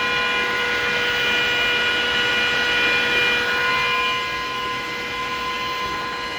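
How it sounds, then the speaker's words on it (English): Intake fan of a Glowforge laser cutter running close by, a steady loud whirring hum with a high tonal whine that dips slightly partway through, heard alone. "Intake fan right here."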